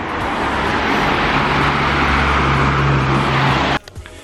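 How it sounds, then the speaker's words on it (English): London city road traffic, a loud continuous rush of passing cars with a low engine hum that cuts off abruptly near the end, leaving quiet thumps. "Like any major city, the one thing that I do have to complain about is the major traffic."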